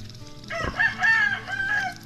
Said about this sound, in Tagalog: Ito yung isa sa pinakamalaking manok dito sa amin.